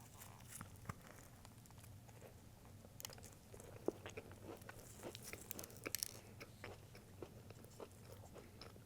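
Crunchy bites and chewing of a dry Oreo Space Dunk cookie, close and quiet, with a few sharper crunches through the middle and soft mouth sounds against a low steady hum.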